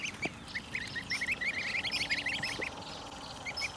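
Geese on grass beside a large puddle give a rapid run of soft honks and calls at moderate distance over faint outdoor background noise.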